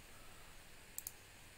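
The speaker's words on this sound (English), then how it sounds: "And you just hit I on the keyboard." A computer keyboard key pressed while working in Adobe Illustrator, two quick faint clicks close together against a quiet room hiss.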